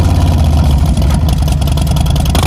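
Harley-Davidson Softail Slim with a Stage 2 air intake and Vance & Hines exhaust, its V-twin rumbling loud and close with a steady throbbing low-end pulse throughout.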